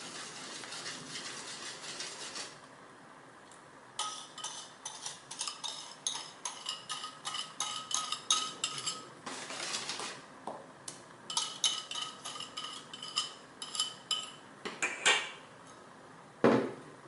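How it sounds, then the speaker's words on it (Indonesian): A spoon scrapes and clinks in a bowl of bika ambon batter, with a steady run of quick, fairly faint taps and strokes after a quiet stretch, ending in one sharper knock. "Kita aduk sampai rata."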